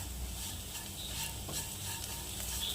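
Spice powders frying in a pan on a low flame for a Kerala-style egg roast give a faint, steady sizzle with light stirring scrapes, quiet and continuous, with no voices.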